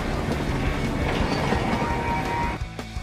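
Railroad cars rumble and clatter steadily along the tracks, a loud continuous rolling noise that drops away sharply near the end, with a faint high squeal briefly audible.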